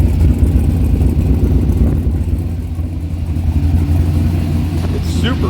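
Pontiac LeMans muscle car engine running steadily with a freshly welded exhaust, a deep, fairly quiet low rumble that holds even throughout with no voices.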